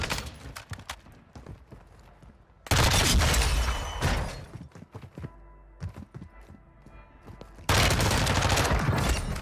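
Gunfire in the shooter game Warzone 2 comes as bursts of rapid shots and heavy sustained volleys, loud and close, broken by quieter stretches of scattered single cracks.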